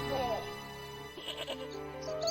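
A goat bleats loudly and waveringly in the Broken Sword: Shadow of the Templars video game, layered over a steady musical drone, with a narrator's voice partly heard alongside.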